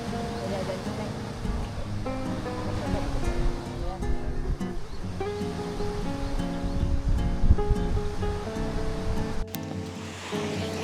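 Surf washes steadily onto a quiet beach in Jogja, a continuous rolling roar with voices murmuring over it throughout.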